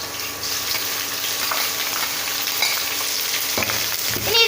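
Chopped ginger and chillies stir-fry in a hot pan, giving a dense, continuous sizzle with occasional scraping stirs, loud and close, ending with a sharper clatter as the pan is worked.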